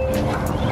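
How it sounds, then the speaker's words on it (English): A dog barks once indoors, a short, loud yelp-like bark close by. "You don't have to bark."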